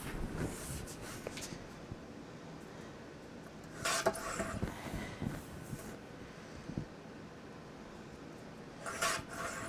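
Scissors or a trimmer cut through a sheet of scrapbook paper, giving soft close rasping and rustling with a few brief sharper snips.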